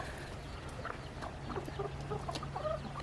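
Baby chicks on a farm give small, scattered high peeps and chirps at moderate distance over a steady low background hum, with no talking.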